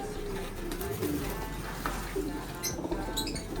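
Racing pigeons in a loft cooing softly over a steady low background hum, with faint fluttering and scattered bird calls throughout.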